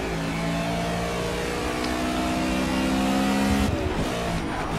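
An Aston Martin and an Audi R8 GT touring race car scream along Road America in Project CARS, loud engines holding high revs with rising and falling pitch as they run close together.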